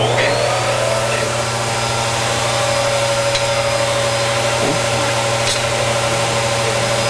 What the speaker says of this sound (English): I'm going to throw on the switch, and it's going to blow air jets